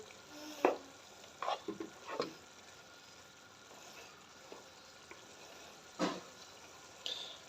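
Chicken sizzling in a hot pan, a low steady fry broken by several sharp scrapes and stirring clatters of a utensil.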